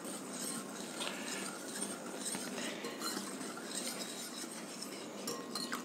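Eggless chocolate cake batter is whisked with milk in a bowl, giving a steady, brisk scraping and swishing that runs close and continuous throughout with no talking.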